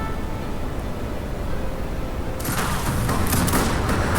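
Grenade blasts and crackling fire erupt midway through a close battle between grenadiers in Age of Empires 3 Wars of Liberty, a dense burst of explosive bangs over a steady hum of game noise.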